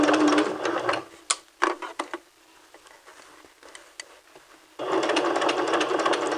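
A sewing machine runs in steady bursts while curved dress fabric is turned along the seam, stopping briefly in the middle with a few clicks before running continuously again, close and clear.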